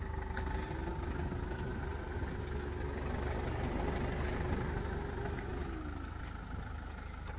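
A steady, low Renault car engine idles close by, a constant rumble with a faint mechanical hum that holds even throughout, no voices.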